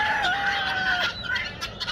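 Brown Leghorn roosters let out of a muddy farm coop crow loudly and nearby with a drawn-out call, and hens cluck in short bursts around them.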